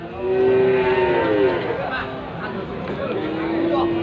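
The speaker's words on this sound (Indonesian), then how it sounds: "sapi-sapi yang berada di pasar sapi Muntilan" Several cattle moo at a busy livestock market in Muntilan, Indonesia, long low calls rising over a steady background of crowd chatter and noise.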